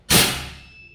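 A single sharp shot from a 6.35 mm mini air rifle with a 30 cm barrel, fired close by. The crack is loud and sudden, then trails off into a brief ringing decay.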